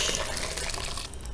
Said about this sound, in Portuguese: E agora eu vou colocar essa mistura aqui nesse balde